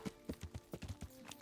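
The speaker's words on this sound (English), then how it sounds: "Hey, who's there? It's my horse." Horse hooves clip-clopping in the video game Kingdom Come: Deliverance, a run of soft, fairly faint hoof falls in an uneven walking rhythm with no voices.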